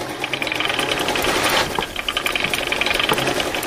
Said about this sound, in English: And of course the sewing machine.